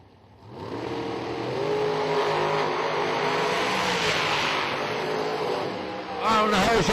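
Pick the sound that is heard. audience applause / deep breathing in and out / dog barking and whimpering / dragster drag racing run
dragster drag racing run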